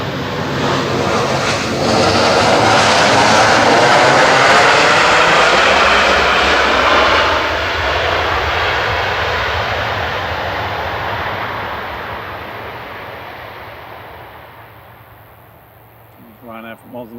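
A Ryanair passenger jet from Oslo passes near Manchester Airport, its loud engine roar swelling and sweeping past for several seconds before fading into the distance, with some talk underneath.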